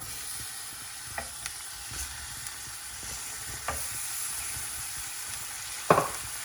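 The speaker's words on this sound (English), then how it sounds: "don't need much oil, just 1 spoon of oil. First I'm putting the cherry tomatoes in." Cherry tomatoes sizzle in a spoonful of oil for a Bharwa Karela dish, a soft, steady hiss with scattered clicks and stirring knocks, ending in a louder crackling burst near the end.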